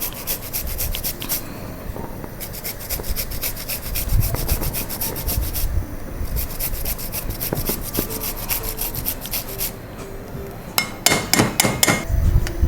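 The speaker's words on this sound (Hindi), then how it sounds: "1 इंच अदरक का टुकड़ा, इसे भी ग्रेट कर लें।" A one-inch piece of fresh ginger is grated for turmeric golden milk. Quick, rhythmic rasping strokes repeat in bursts, close and fairly faint, with brief pauses between runs and no one talking.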